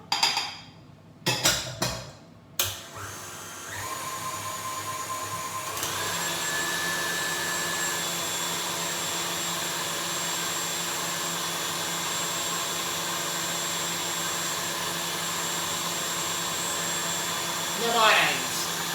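An electric mixer whips egg whites with sugar for melindros ladyfinger biscuits: a few clatters and knocks, then a loud, steady high-pitched whir that runs unbroken for about thirteen seconds, briefly rising near the end.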